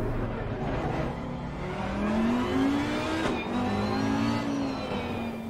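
Race car engine in the racing game Assetto Corsa Competizione, revving and accelerating through rising pitch sweeps, loud and steady, alone without talk.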